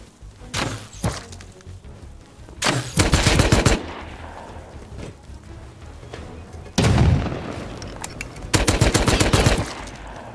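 Automated turrets firing in the video game Rust, loud bursts of rapid gunfire in several volleys with short pauses between them.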